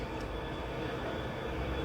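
A train rumbles past at a steady, moderate level, a continuous low mechanical drone with no voices.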